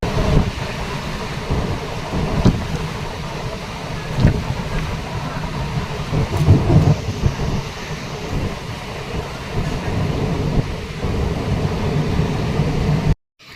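Heavy rain and stormy wind with passing traffic on a street below, a steady broadband wash with occasional louder swells, continuous and fairly close throughout.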